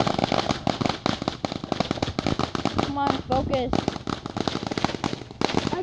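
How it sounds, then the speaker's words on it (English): Fireworks and firecrackers exploding outdoors at a front-yard evening display, a dense, continuous crackle of rapid pops and bursts with occasional whistling streaks, while people talk nearby. "He really hates the fireworks."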